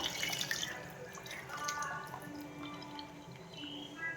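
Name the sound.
pouring soaked tamarind water into the pot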